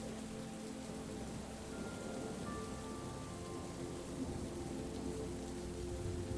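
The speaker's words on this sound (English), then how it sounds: "the wild beauty of the autumn storm" Steady autumn storm rain pours outside an attic, a dense, even hiss of drops on surfaces that stays constant throughout with no voices.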